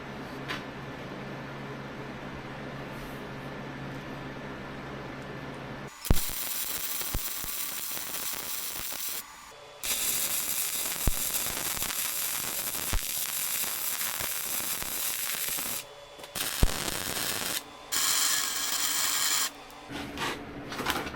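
Steel pieces being cut and tack welded for a tractor bucket in a workshop, with a steady hiss of cutting followed by several bursts of loud crackling welding separated by short pauses.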